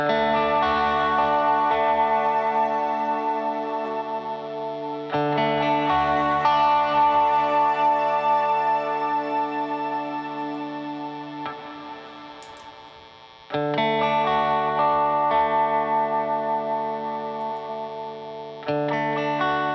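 Electric guitar played through a Strymon BlueSky v2 or GFI Skylar reverb pedal, sustained chords swelling into a dense, saturated wash, with brief gaps between phrases before ringing chords return, loud and close.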